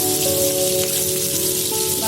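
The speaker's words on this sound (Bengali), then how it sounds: "এখন দিয়ে দিচ্ছি পেঁয়াজ কুচি, তারপরে দিয়ে দিচ্ছি রসুন কুচি। এটা এখন আমি বাগার দিব।" Chopped onion and garlic hit hot oil for a tempering for taro-root lentil dal, giving a dense, steady crackling sizzle that stays close and loud throughout without pause.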